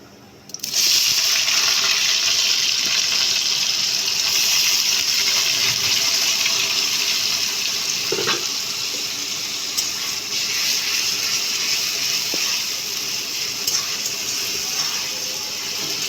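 Chopped onion drops into hot oil already seasoned with cumin and whole garam masala for a mutton curry, setting off a sudden loud sustained hiss that continues evenly with a few faint clicks.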